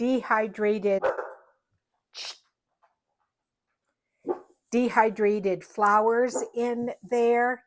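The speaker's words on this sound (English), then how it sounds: "Sorry about the dogs. My neighbor got home" Neighbor's dogs bark in a few short bursts at a distance, mostly in a gap between stretches of close indoor talk.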